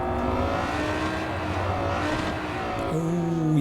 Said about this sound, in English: it's already at 60 miles an hour, and the engine sounds like it's in second gear